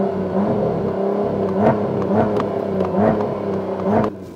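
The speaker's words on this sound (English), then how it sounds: "Get a shot of that exhaust." A car engine revs repeatedly, the exhaust note rising and falling in a steady series of throaty surges, loud and close.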